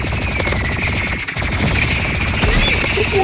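Energy pistol gunfire in a video game, loud and continuous rapid-fire bursts with one brief gap near the middle, dense and sustained throughout.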